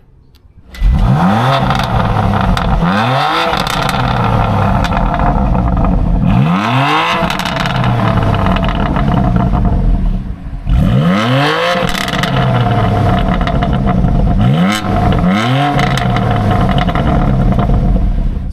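A BMW M2 Competition F87 with its S55 engine revs repeatedly through the exhaust, each blip sweeping up and falling back in a loud rhythmic series of roaring pulls, close and without talking.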